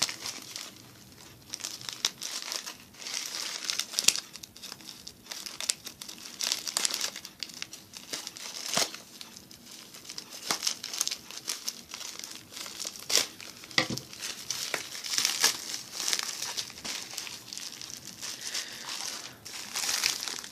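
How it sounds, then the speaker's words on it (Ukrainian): Steady crinkling and crackling of a bubble-wrap mailer and bubble-wrap film around small scissors, close up, with sharp pops and rustles throughout and no talking. "пакет ось такий із бульбашками. І запаковану плівку теж із бульбашками."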